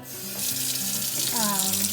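Tap water runs into a bowl being filled halfway for cooking pasta, a close, steady splashing stream whose pitch rises as the bowl fills, with no talking.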